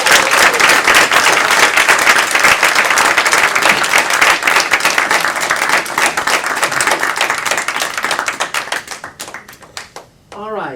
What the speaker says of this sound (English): Let's give some applause.